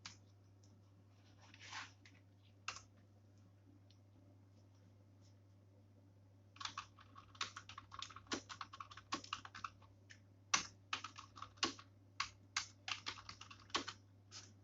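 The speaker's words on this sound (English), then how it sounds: "I'm typing something here." Keys on a computer keyboard clatter in bursts, sparse at first and then a steady run of quick taps, close by over a low constant hum.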